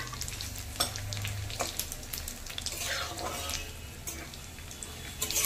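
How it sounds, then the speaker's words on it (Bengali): Tempering of cumin, cardamom, garam masala and panch phoron frying in hot oil for bhoger khichuri, a close, continuous crackling sizzle with occasional spatula clinks and stirring scrapes. "ফোড়নটাকে ভালো করে ভেজে নেব"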